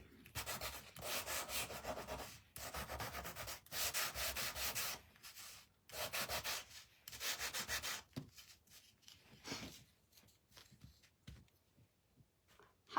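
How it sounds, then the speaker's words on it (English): Wooden pieces of a vintage Valentine angel wood kit being sanded by hand in steady back-and-forth bursts of rasping, close and fairly loud, with brief pauses between strokes and quieter scattered rubbing toward the end. "Sand it up."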